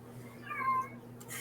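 A cat gives a single short, faint meow, with a quiet steady hum in the background.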